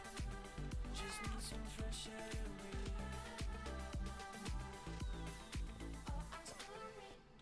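A cat meows amid loud, steady background music with a regular drumbeat, during a Minecraft livestream; the meows are partly buried in the music.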